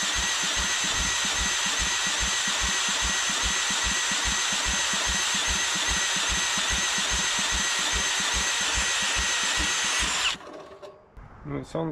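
The old engine on a Rosco Vibra-Pac roller packer cranks over in a fast, even chugging rhythm for about ten seconds, close and steady, then stops as rustling handling noise follows.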